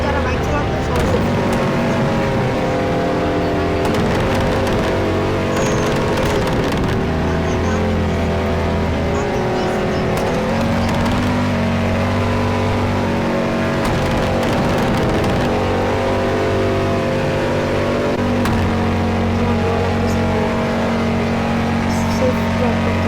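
A Ducati motorcycle engine runs continuously while riding slowly, a close, loud, steady drone with slight shifts in pitch, and a voice talks over it at times.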